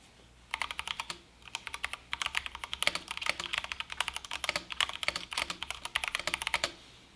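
Rapid, uneven bursts of clacky keystrokes from a newly built custom mechanical keyboard with keycaps fitted, typed close up with short pauses between runs and no voices.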